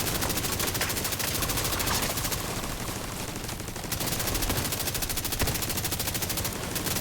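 Sustained rapid bursts of turret machine gun fire in a video game, loud and close, rattling almost continuously with a brief lull midway before resuming.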